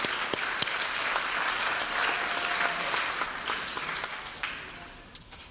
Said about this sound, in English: Once again, a round of applause to the varsity boys soccer team